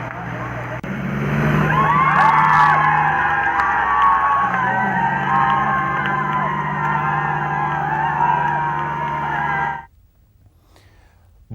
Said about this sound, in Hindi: मौके पर मौजूद लोग ट्रैक्टर चालकों का जोश बढ़ा रहे हैं